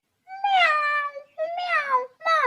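A cartoon cat gives three clear, drawn-out meows in quick succession, loud and close, each one sliding downward in pitch.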